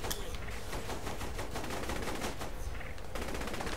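Rapid, continuous pistol fire in the game Saints Row: The Third, dense overlapping shots crackling close and loud for several seconds with a brief pause near the end.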